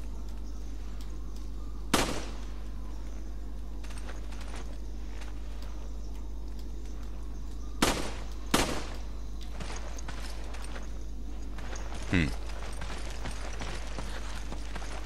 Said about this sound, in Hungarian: Mert onnan talán látni is fogom, hogy mi a fenére lövöldözök.